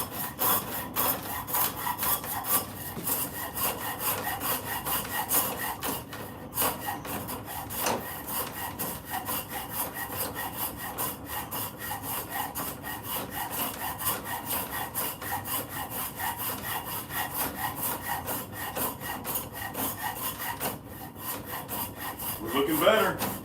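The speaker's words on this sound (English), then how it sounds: "Let's go back with the Shinto rasp," A Shinto rasp files the wood of an axe handle with steady, rapid back-and-forth rasping strokes, close and continuous, with a couple of brief pauses and no talk.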